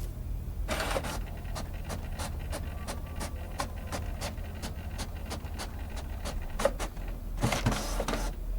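Printer in a video game running with a steady low hum and a regular series of sharp mechanical clicks, ending in a louder burst of whirring.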